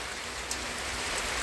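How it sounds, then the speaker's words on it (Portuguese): Heavy rain pours down outdoors during a hunting trip, a dense, even hiss of countless drops striking surfaces, steady and enveloping with no voices. "Muita chuva, galera."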